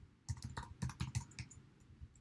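Quick bursts of keystrokes on a computer keyboard while entering spreadsheet text, close and soft, irregular clicking clusters over a couple of seconds with no voices.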